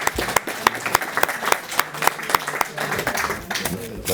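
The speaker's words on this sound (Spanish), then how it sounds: "Damos un aplauso ahora a Fernando." Applause from an audience at a panel session on art restoration, a dense patter of many hands with sharp individual claps standing out, fairly close and steady for a few seconds.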